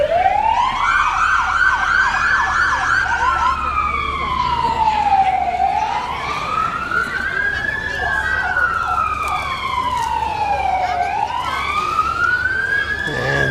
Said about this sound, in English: I guarantee that their siren works just fine.